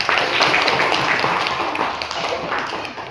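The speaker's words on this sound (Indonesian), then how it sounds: "kasih tepuk tangan dulu untuk ketiga kelompok" A classroom of students claps for three presenting groups, a dense, loud burst of applause close by that holds steady and then tapers slightly toward the end.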